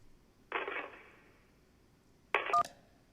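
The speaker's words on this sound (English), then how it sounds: "That was dirt being thrown on the lid of a coffin." Dirt thrown onto a coffin lid in the game Kentucky Route Zero lands as two separate gritty, hissing shovelfuls a couple of seconds apart, the second overlapped by a brief phone keypad tone.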